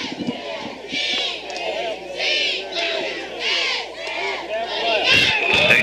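Stadium crowd roaring with cheerleaders chanting at a high school football game, loud rhythmic bursts of yelling and cheers repeating in waves over a constant crowd din.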